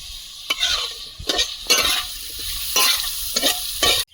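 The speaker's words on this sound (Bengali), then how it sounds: "আলুটা ভালোভাবে ভেজে নেব" Potatoes frying in a pan with salt, turmeric and cumin powder, a steady close sizzle broken by several distinct scraping stirs of a spatula, about five strokes spread across the stretch.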